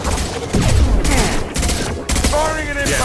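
Rapid bursts of impact shot weapon fire ring out in the Mass Effect 2 video game, loud and dense, with several volleys over a few seconds.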